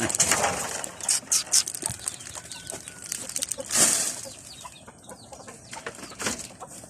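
Chickens cluck and flutter nearby in a farmyard, with irregular clucks, a burst of wing flapping and scattered calls.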